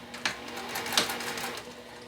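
A sewing machine whirs in short rapid bursts of back stitching on a wallet's zipper pocket opening, a soft mechanical chatter close by, with no talking.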